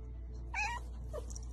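A cat gives one short, clear meow with a faint follow-up chirp, close by over a steady low background hum.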